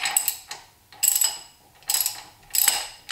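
Ratchet wrench tightening a ball joint on a Dana 44 axle, four bursts of rapid clicking strokes in a steady rhythm, close and fairly loud, with no talk.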